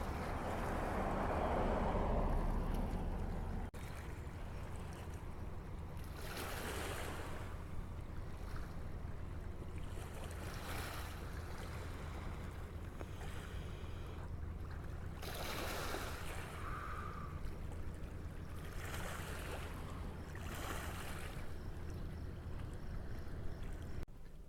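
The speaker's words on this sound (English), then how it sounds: "Here's a view of the lake shore." Waves wash steadily along the Lake Michigan shore at Charlevoix, a soft continuous surge with gusts of wind and a few louder swells, heard from the shoreline with no talking.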